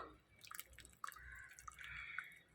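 Tamarind water pours and drips into a pot of dried-fish curry, with small splashes and a trickling, bubbling sound, quiet and close.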